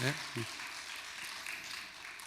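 Listeners clap after a poet's special lecture by Ahn Do-hyun at Jeongbeopsa, a Buddhist branch temple in Masan. A voice is heard briefly at the start, then a moderate, even patter of applause carries on to the end.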